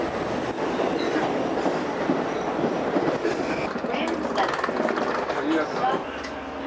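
Steady rumble and rattle of a New York commuter train heading to Grand Central, with a continuous wheel noise and occasional clacks, heard from inside a carriage.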